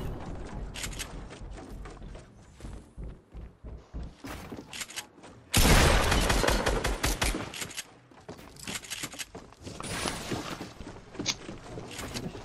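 Rapid video game gunfire rattles in dense bursts, with a loud sustained volley in the middle and more scattered shots and thuds around it, close and punchy with no talk over it.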